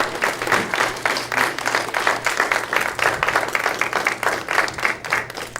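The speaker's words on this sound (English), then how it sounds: "Please, another round of applause for Rachel Wagner." An audience at a songwriters showcase gives a performer a round of applause, the clapping steady and fairly close, pulsing in rhythmic bursts with a low hum underneath.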